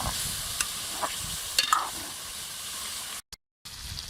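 Steady sizzling and hissing of chicken frying in a hot pan for karahi, with occasional clinks of a utensil stirring, plus a brief cut to silence near the end.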